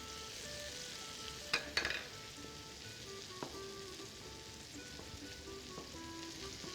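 Tomatoes frying lightly in a pan for a summer vegetable borani, a quiet, even sizzle with a couple of sharp utensil clinks near the start, heard alone.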